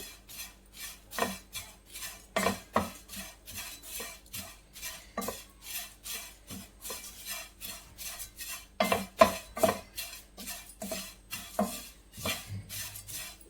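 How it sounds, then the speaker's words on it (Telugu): Poha (flattened rice) being dry-roasted in a pan on a low flame, a steady rhythm of scraping and stirring strokes with a spoon against the pan, close and alone. "ఇట్లనే క్రిస్పీగా వచ్చేదాకా వేయించుకోవాలి"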